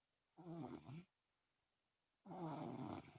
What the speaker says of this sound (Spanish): te están escuchando todos roncar